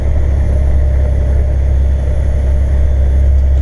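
A heavy truck engine drones steadily after dropping from 13th to 11th gear on a heavy climb, a loud, continuous low rumble with no break or change in pitch throughout.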